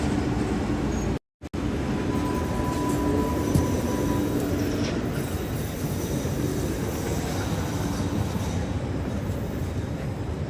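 Steady loud rumble of a moving train carriage heard from inside, continuous wheel and track noise with a brief dropout near the start, no talking.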